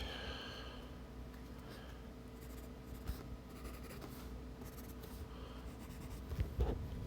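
Pencil writing during a Warriors of Waterdeep gameplay session, a steady close scratching and rubbing with faint irregular taps and no talk.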